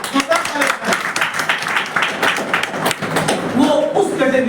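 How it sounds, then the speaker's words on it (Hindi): An audience claps loudly at a talk, dense rapid clapping mixed with crowd voices and shouts throughout. "एक बार जोरदार ताली बजाइए, जोरदार ताली बजाइए।"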